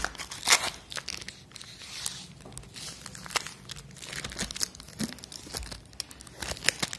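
Packing tape is peeled and torn away from a plastic bottle of Ambar Malvi cow desi ghee, giving close crinkling and ripping sounds in irregular bursts, with no voices.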